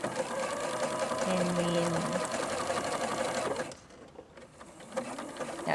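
A sewing machine stitches the binding of a baby cuddle quilt with a close, steady mechanical whir for several seconds, then stops abruptly, leaving quiet handling sounds and a brief voice.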